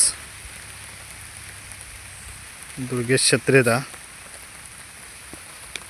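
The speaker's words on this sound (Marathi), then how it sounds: "ह्याचा सगळीकडे पाऊस" Steady hiss of monsoon rain falling all around in rural Konkan, Kankavli, with a person briefly speaking over it in the middle.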